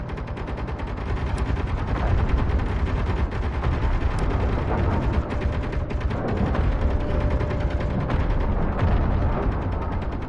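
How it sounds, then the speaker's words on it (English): Rapid bursts of gunfire crackle almost continuously over a dense, noisy background in the video game Escape from Pertam, sounding like synthetic battle effects with sharp occasional shots. "A lot of gunfire for sure."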